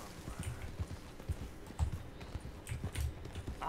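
Horse hooves clip-clop at an uneven walking pace in the video game Red Dead Redemption 2, sounding moderately close and standing alone.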